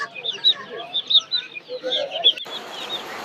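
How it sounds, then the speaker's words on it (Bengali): Young fighter chickens about 20–22 days old cluck and chirp in quick, close bursts for a few seconds, loud and lively, with a brief shift in background noise near the end. "আর এইগুলো হচ্ছে ফাইটার মুরগি"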